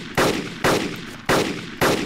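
Four heavy gunshots ring out in the survival video game DayZ, evenly spaced about half a second apart, each a loud close blast with a short decaying tail and no talking.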